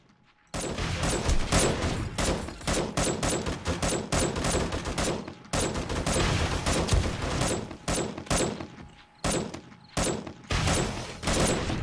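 Rockets exploding among zombies in 7 Days to Die on insane mode with a large zombie horde, a near-continuous barrage of loud blasts and rumbling booms, close, with brief gaps between volleys.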